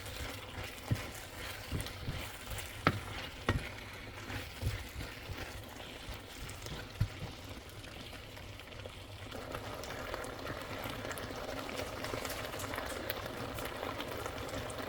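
Beef and vegetable stir fry bubbles and sizzles in a pan after sauce is poured in, a soft, steady simmering hiss broken by occasional clinks and scrapes of stirring.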